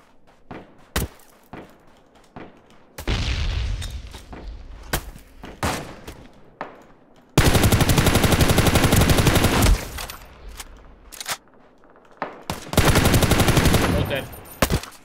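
Bursts of gunfire in the video game Ring of Elysium, with isolated sharp shots early on, then long loud sustained volleys and a final rattling burst, with a voice speaking briefly between them.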